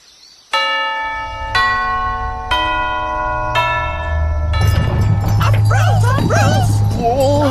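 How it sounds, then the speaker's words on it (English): Big tubular bells struck loudly four times in a slow descending sequence, each ringing on and overlapping, followed by a dog yipping and whimpering while bell tones linger. "It's the big tubular bells we heard before."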